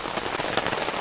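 Steady rain patters densely on a surface at a campsite, an even hiss of drops close by.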